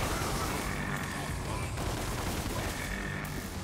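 Continuous loud barrage of gunshots during a boss fight in DmC: Devil May Cry, a dense, unbroken rattle of rapid fire throughout with no voices.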